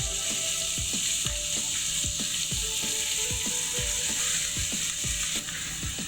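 Chopped onions fried with cumin seeds in a pan for samosa filling, steady sizzle under a run of sharp, regular clicking strokes like a spoon scraping and stirring, close and continuous.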